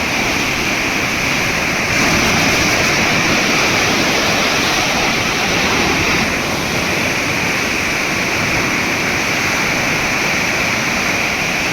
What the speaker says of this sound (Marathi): पाणी अक्षरशः वेड्यासारखं वाहत आहे